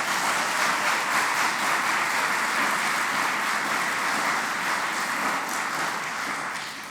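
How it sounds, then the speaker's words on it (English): An audience in a lecture hall applauds teachers at a distinguished faculty lecture: dense, steady clapping from many hands that holds for several seconds, then fades slightly toward the end. "Let's give them a round of applause."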